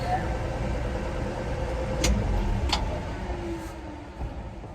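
An old Chevy pickup truck's engine rumbles steadily at close range while driving, with a couple of sharp ticks or clunks partway through.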